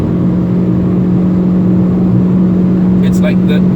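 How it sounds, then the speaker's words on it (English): A 2019 Proton Persona's engine drones loudly and steadily at high revs through its CVT gearbox, with a constant low hum, heard from inside the cabin. "It's like the engine is winning, but the gearbox is protesting a little bit too much."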